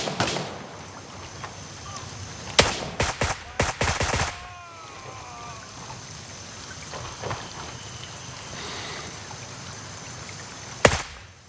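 Automatic rifle fire in the Gray Zone Warfare shooter game: a loud, rapid cluster of shots and bursts lasts about two seconds, then a single sharp shot follows much later over a steady rain-like outdoor ambience.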